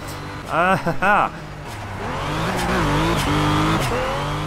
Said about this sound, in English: I just love pumping the throttle in here, in that little wastegate